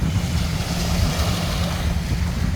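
Sea waves at high tide on Heera Beach in Sharjah, a loud, continuous rushing surf with wind across the microphone and no voices.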